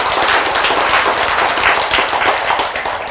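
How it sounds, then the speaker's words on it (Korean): Dense, steady clapping from an audience at a Korean lecture or sermon, broad and continuous for the whole span with no pauses or voices. "박수. 이렇게 들어."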